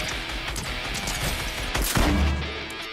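Gunfire from a build battle in the Fortnite video game, a dense burst of shots and crashes at steady loudness with a heavier impact near the end, no talking.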